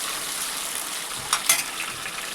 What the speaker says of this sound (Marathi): टोमॅटो टाकून घेते. टोमॅटो पण छान परतायचा आहे.